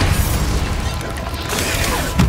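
Bombarda explosion spell in Hogwarts Legacy combat: a dense, crashing burst with mechanical rattling debris, loud and sustained, with a second sharp impact near the end.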